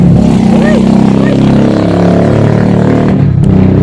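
A vehicle drives off loudly in Kharkiv, a steady, close engine roar with a low rumble that holds for several seconds before easing slightly at the end, and no voices.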